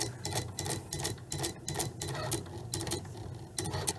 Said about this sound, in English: So what we're doing now is we're waiting for the machine to draw.